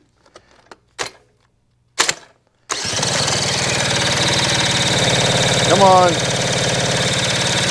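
A few sharp cranking bursts, then a motorcycle engine catches and settles into a loud, steady idle with a brief rev; a voice speaks briefly at the start.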